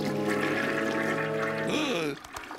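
A toilet flushes in a cartoon scene, with a loud rushing, gurgling swirl of water that rises, then cuts off abruptly into quiet after about two seconds.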